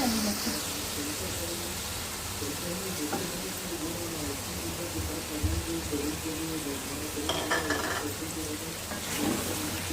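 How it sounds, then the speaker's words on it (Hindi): Chopped tomatoes and green chillies fry in a pan with a soft, steady sizzle and occasional stirring clatter, the cooking noise fairly low throughout. "इसको अच्छी तरह भूनना है ताकि टमाटर गल जाए और साथ ही इसमें हरी मिर्च कटी हुई शामिल कर दें।"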